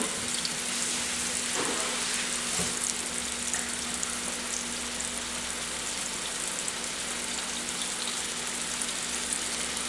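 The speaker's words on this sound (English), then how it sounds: "you're going to take your beef roast and you're going to set it down. And you're going to sear that for about 1 to 2 minutes per side" Beef roast searing in hot oil in a pan before going into a crock pot, giving a steady, close sizzle and crackle throughout with a couple of faint knocks.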